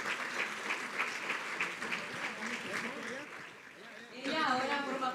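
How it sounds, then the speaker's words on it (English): Audience applause at a corporate sustainability report presentation, a continuous wash of clapping that dips briefly near the end before a voice comes in over it. "A big round of applause for Clara again."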